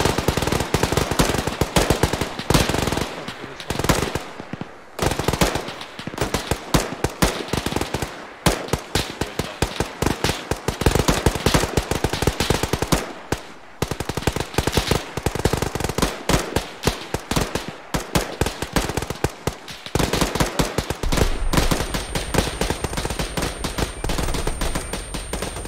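Sustained automatic gunfire in the Arma 3 video game on Altis, dense rapid bursts and overlapping shots rolling almost continuously for about 25 seconds, loud and close with brief gaps.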